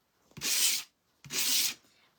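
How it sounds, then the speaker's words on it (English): A sanding block rubs along the edges of a craft piece in two distinct scratchy strokes, each about half a second long with a short pause between, close and fairly quiet. "I'm going to take my sanding block and just kind of hit. I'm just going to hit the edges."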